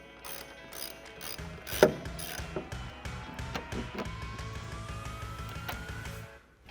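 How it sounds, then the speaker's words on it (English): A regular ratchet with a 10mm socket removing a headlight bolt on a 2009-2018 RAM 1500: a steady, rapid run of close metallic ratchet clicks lasting several seconds, with no talking. "Now we're gonna use just a regular ratchet with a 10mm socket because this one is a little bit harder to get to."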